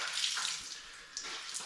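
Water rushes steadily from a leaking plumbing fitting with a loose cap in a newly plumbed passive-solar SIP house, a continuous close hiss and splash that swells and eases slightly.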